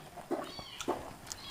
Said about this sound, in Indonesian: teriak terus. Kucing baru lahiran, anak kucing.